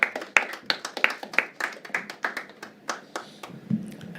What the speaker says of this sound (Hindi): तालियां उठाइए।